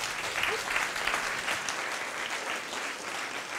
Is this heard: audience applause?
yes